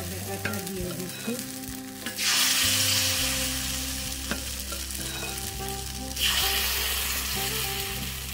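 Chitoi pitha batter hits a hot oiled pan and sizzles loudly, with a burst near the start and another surge later, over a low steady hum and faint clinks, no talking.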